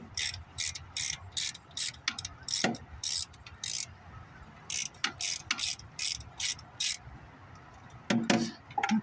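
A ratchet works the cylinder head bolts on a 1994 Chevy Silverado 4x4 with a 5.7-litre 350 V8, sounding as close, repeated bursts of rapid clicking separated by short pauses.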